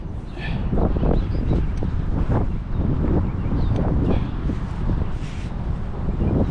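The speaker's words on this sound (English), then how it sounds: "it is a kind of a windy day" Gusty wind buffets the microphone with low rumbling thumps, steady throughout with no one speaking.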